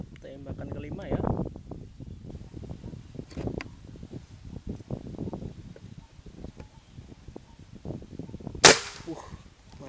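A single sharp, loud crack of a PCP Big Game ST New Series Long air rifle firing near the end, following a stretch of quiet outdoor rustling and soft voices.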